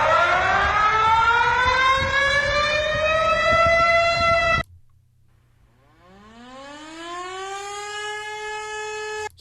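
A recorded Emergency Alert System alarm siren plays two long rising wails, each climbing slowly in pitch and loud and steady. A sharp cutoff and a brief low hum separate them, with no voices.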